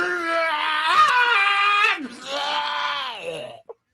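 A person vocally imitates a scream combined with vomiting, two long strained, retching wails, loud and close, ending with a brief gulp.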